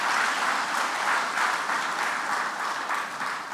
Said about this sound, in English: A round of applause for our lecturer.